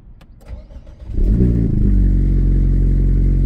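An Alpine A110S engine cranks briefly and fires, rising quickly to a loud, steady, deep idle that holds close by with no talking.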